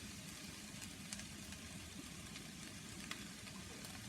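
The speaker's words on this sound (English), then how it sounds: "And then you leave to fry for a bit and add" Food fries in a pan with a seasoning cube added, giving a steady, fairly quiet crackling sizzle with a faint low rumble beneath and a few slightly sharper pops, continuous throughout with no talking.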